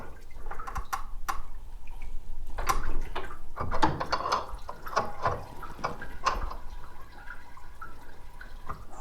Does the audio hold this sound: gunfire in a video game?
no